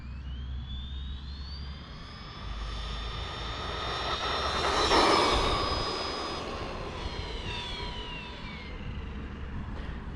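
A Losi Lasernut RC car runs at full throttle on a 4S battery, its electric motor whining in a high rising and falling pitch as it passes near, swelling loudest midway then fading, with a steady rumble underneath.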